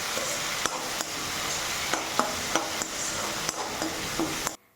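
Capsicum and tomato pieces sizzle and fry steadily in a pan for restaurant-style pasta, with a spatula scraping and clinking against the pan at irregular intervals before the sound cuts off abruptly.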